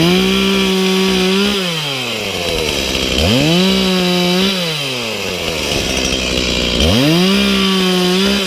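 Husqvarna 120i battery-powered chainsaw biting into a large piece of timber, its motor whining up into three sustained cuts that fall away to a lower pitch between passes, loud and close with no talking.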